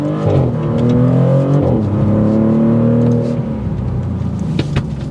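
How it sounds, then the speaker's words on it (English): A Maserati GranTurismo engine drops in pitch on a downshift, then revs up loudly as it accelerates from a rolling start, the harmonic whine climbing steadily before easing off. "Downshift, here we go."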